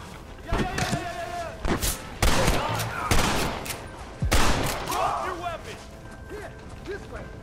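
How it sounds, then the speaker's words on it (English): Gatling gun fire in the Western video game Red Dead Redemption during a village assault: loud, rapid bursts of automatic shots in stuttering clusters, with shouting voices and battle noise mixed throughout. "You man the Gatling gun, Marston!"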